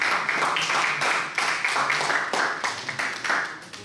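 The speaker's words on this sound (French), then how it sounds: "Applaudissez messieurs en soir Mohamed" An audience claps for a few seconds, a dense patter of hands at a steady level with no talking over it.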